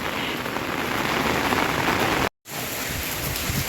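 Heavy monsoon rain pours down in a dense, loud, continuous roar of drops on surfaces, broken only by a brief cut near the middle.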